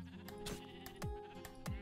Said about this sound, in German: Vorne ist noch ein Schaf.